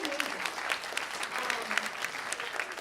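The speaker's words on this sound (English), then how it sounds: "That's a round of applause for that." A conference crowd at a Students for Life national gathering bursts into steady, full applause, dense clapping from many hands throughout.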